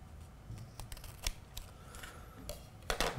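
Scissors cut grip tape in a few quick, crisp snips, with light handling clicks and rustles between them, close by and fairly quiet, with no voices.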